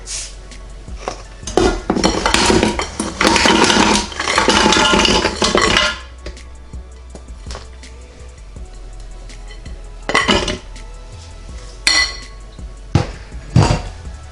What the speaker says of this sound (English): we add the wings to the pot